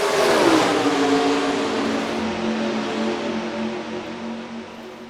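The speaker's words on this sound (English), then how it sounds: "Stapleton and Nichols step on the gas" Several stock cars in the NR2003 racing game roar off together at the green flag of the Budweiser 300, engines revving loudly and rising in pitch as a dense, steady wall of motor noise.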